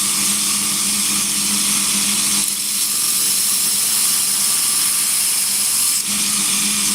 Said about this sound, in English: It's almost sharpened now.